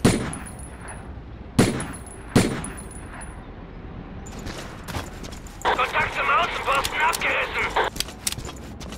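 Gunfire in a video game: two sharp, loud shots spaced apart early on, then a burst of rapid distant fire, with a voice talking over the action.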